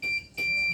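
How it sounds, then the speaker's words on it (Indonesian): Buzzer on a transistor-driven rain sensor circuit gives two steady, loud high-pitched electronic beeps with a brief gap between them, heard alone. "maka akan menghidupkan buzzer dan juga LED seperti ini."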